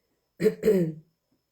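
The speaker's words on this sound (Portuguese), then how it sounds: "Hoje com menos tosse, mas ainda com a pigarrinha" A single short throat clearing, two quick harsh bursts close to the listener, followed by silence.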